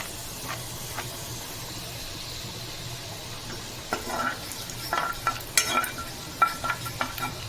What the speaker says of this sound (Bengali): রসুন কুচিটাও এক মিনিটের মতো ফ্রাই হয়ে গেলে